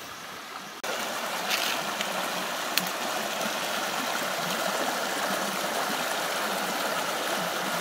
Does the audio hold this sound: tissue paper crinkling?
no